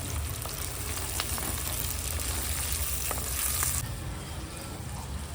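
Ingredients fry in a pan for chicken gravy with a dense, loud, continuous sizzle close up, a few faint clinks of stirring, the hiss easing slightly toward the end.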